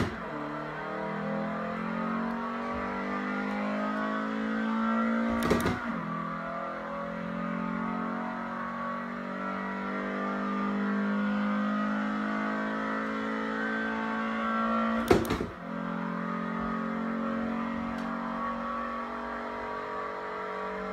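Steady engine drone of a car in a racing video game driven with a Logitech G920 wheel, a continuous mid-level hum shifting through gears, with two sharp clicks or bumps standing out along the way.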